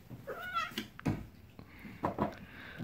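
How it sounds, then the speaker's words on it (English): A house cat meows several times in a room where an old magneto is being rebuilt, the cries rising and falling, fairly close and clear with no talking. "Cat."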